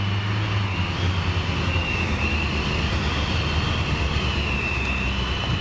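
A light aircraft lands in a gusty crosswind, its engine droning steadily with a bit of power applied, buried in a constant heavy roar of wind and cockpit noise.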